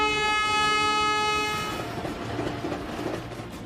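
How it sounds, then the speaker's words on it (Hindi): A Vande Bharat train arriving at Ranchi railway station, its long, loud horn blaring before giving way to rumbling wheels and clattering rail noise as it rolls in nearby. "यात्रीगण कृपया ध्यान दें, प्लेटफॉर्म संख्या 1 पर वंदे भारत थोड़ी ही देर में आने वाली है।"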